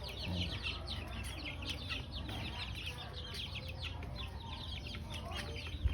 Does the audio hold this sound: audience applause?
no